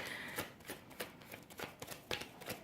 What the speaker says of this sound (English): Let me just pull one more card about the Tower.